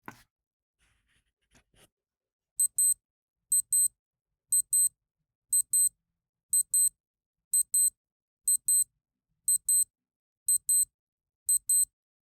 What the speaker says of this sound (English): point my microphone at the watch and I will set off the alarm